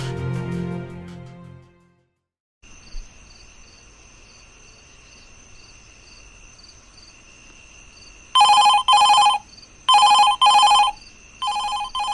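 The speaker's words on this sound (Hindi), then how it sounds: "रात के 3 बजे फोन बज रहा है।" An old-style telephone rings in repeated double bursts at night, each ring loud and close, over a steady background of crickets chirping in the dark.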